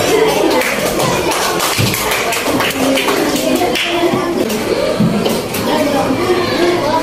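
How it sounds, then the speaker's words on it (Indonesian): A classroom of sixth-grade pupils claps together, a steady, fairly loud patter of hands with scattered taps and shuffling, and voices murmuring underneath. "Oke, tepuk tangan untuk kita semua."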